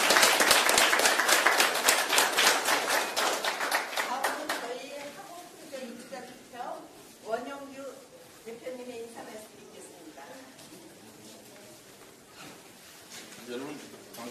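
Dense clapping in thanks from a crowd at a People Power Party gathering of apartment residents' representatives, loud and rhythmic for about four seconds, then thinning out under someone speaking.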